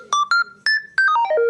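A children's five-button toy mobile phone plays a bright electronic melody after a button press: a few separate beeping tones, then a quick descending run of notes, clear and close.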